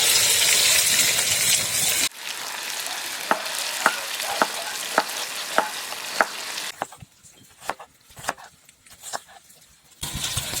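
Meat fries in a pan for shpundra, a Ukrainian beet dish, first as a loud dense sizzle, then quieter crackling with regular sharp knocks and clatter before the sizzle returns.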